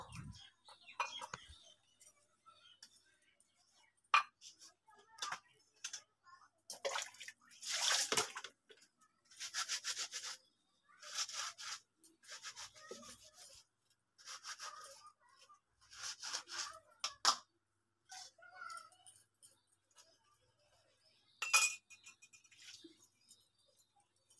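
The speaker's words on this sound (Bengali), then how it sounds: "এই যে থালাগুলো এখন আমি মেজে নেবো" Plates being scrubbed and washed at an outdoor tap, intermittent splashes and scraping bursts of water and dishware, fairly faint, with occasional bird chirps in the background.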